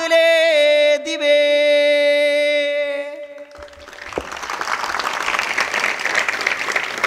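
Audience clapping at a public speech rises after a sustained sung or droned note fades out, starting thin and then building into a moderate, steady round of applause.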